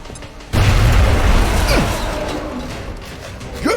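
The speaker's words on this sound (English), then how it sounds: "Throwing grenade." A grenade detonates in XCOM: Enemy Unknown with an abrupt loud boom, its heavy rumble and debris wash slowly fading over a few seconds, with a couple of faint whooshing sweeps afterward.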